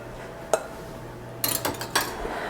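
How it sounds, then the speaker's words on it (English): A metal whisk goes into a mixing bowl with a single light clink, then after a pause a cluster of clattering metallic knocks against the bowl, close and fairly loud. "Just gonna put the whisk in there"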